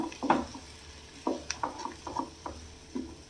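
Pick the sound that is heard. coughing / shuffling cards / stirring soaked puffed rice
stirring soaked puffed rice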